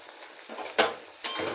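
Okra sliced for doi bhindi, with salt and turmeric, stirred in a pan: soft scraping and stirring over a light sizzle, with two sharper, louder scrapes close by.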